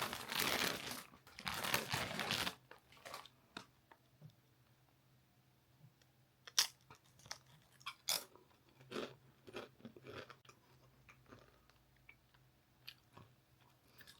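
Gingerbread-flavoured Doritos crisps being eaten close up: a burst of bag crinkling, then a long run of sharp crunchy bites and chewing in a quiet room.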